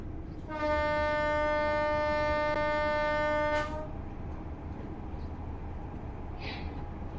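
Train horn sounding inside a tunnel in the Train Sim World 4 game, a single loud sustained chord blast of about three seconds, then the rumble of the moving train continuing underneath with a brief faint squeal.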